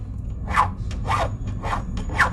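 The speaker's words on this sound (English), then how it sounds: "I want to start by filing like in between" A hand file works back and forth on a cast silver pendant, four or five distinct rasping strokes in an even rhythm, close and fairly loud over a low background hum; no talking.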